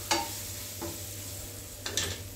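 A spoon stirs a vegetable dish in a pan, with a few faint scraping strokes over a quiet, steady background hiss.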